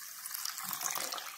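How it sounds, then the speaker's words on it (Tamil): Rice, urad dal and fenugreek rinsed together in water in a kitchen, a steady close splashing and sloshing of liquid with no voices. "இது எல்லாத்தையுமே ஒன்றாவே சேர்த்துட்டு தண்ணி ஊற்றி 2-3 தடவை நல்லா அலசி எடுத்துக்கலாம்."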